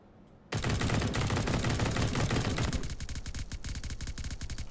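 Rapid automatic gunfire in the Pantropy video game, a loud sustained burst of dense shots that starts suddenly, then continues as a slightly thinner string of distinct rapid reports.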